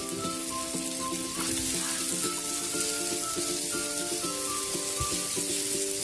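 Onion sizzles in a hot pan while cooking for sweet and sour fish or chicken afritada, a steady close frying crackle and hiss that runs throughout with occasional scrapes and stirring clinks.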